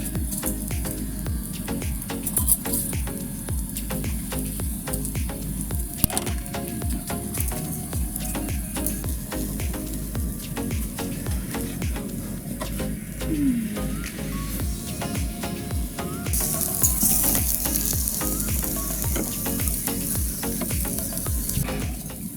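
Continuous sizzling and crackling of beef liver kebab cooking over a grill, steady and close, with no talking.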